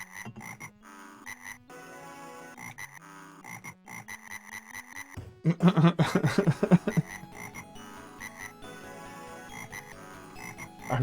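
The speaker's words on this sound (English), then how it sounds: "Just a chorus of ribbits." Frogs croak in a dense electronic chorus of ribbits inside an arcade video game, with repeated synthetic calls over game music that swell louder midway, with no talking.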